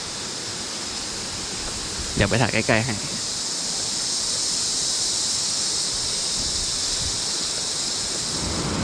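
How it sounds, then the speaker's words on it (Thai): A waterfall plunges off a high cliff near Khiriwong village in southern Thailand, a loud, unbroken rushing hiss that fills the scene while someone briefly speaks over it. "ได้ยินเสียงน้ำตกดังมา"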